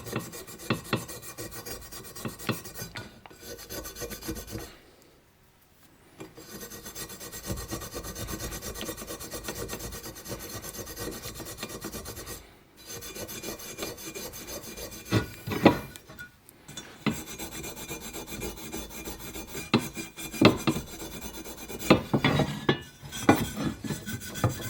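Steel wool scraping a Husqvarna 266/268 chainsaw part clean during a rebuild, with steady rasping strokes that run in bursts, separated by short pauses near 5, 12 and 16 seconds, loud and close with no talking.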